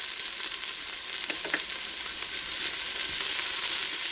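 Onions and green pepper sautéing in a pot, a loud, steady hiss of frying with faint scraping from stirring, close and continuous with no talk.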